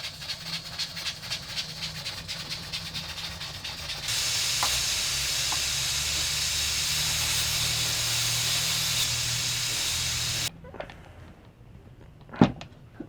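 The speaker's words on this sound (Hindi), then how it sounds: "अभी जो है ना इंशाल्लाह कुकर प्रेशर को खोलेंगे" A pressure cooker of chicken shorba hisses steam steadily, a loud continuous jet that swells midway, then cuts off abruptly, leaving a quieter room with a couple of sharp clinks near the end.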